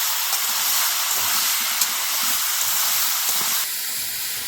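Raw chicken meat for a chicken curry hissing and sizzling steadily in a hot pan, a loud continuous broadband fry with a few small crackles and a slight drop in intensity near the end.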